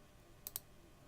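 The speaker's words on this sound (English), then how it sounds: "Let's click that one." Two quick, close mouse clicks, faint and alone against quiet room noise, made while working in the Unity 2018 editor.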